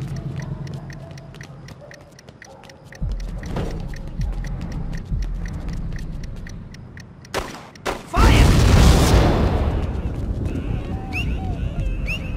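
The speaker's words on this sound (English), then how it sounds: "It's gonna explode!" A big explosion at a compound in the video game The Godfather 2, a sudden loud roaring blast that swells and rumbles on for several seconds after scattered thuds and shots, with game voices talking faintly beforehand.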